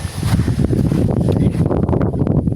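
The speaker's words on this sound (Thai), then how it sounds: "ลมมันจะแรงนะครับ เสียงลมแรงมาก" Strong outdoor wind buffets the microphone on a lawn, a steady loud low rumble with gusty swells throughout and no voices.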